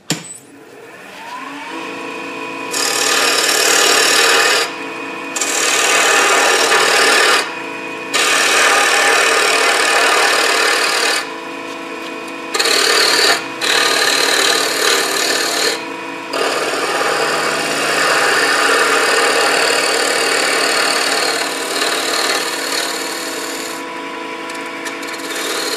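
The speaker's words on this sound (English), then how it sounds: "So I'm going to cut into the headstock right here." Gouge cutting wood on a lathe near the headstock while turning an enclosed form: a loud, continuous rasping hiss of steel shearing spinning wood, broken by several brief pauses as the tool lifts off.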